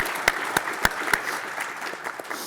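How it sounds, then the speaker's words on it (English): A conference audience at a CIO symposium breaks into short applause: a few loud claps stand out up front, then scattered clapping continues briefly. "let's give him a round of applause"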